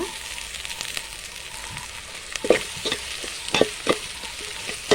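Crushed ginger sizzles in a hot pan with scattered crackles and pops, plus occasional scraping as the pieces are stirred, while cooking country chicken soup.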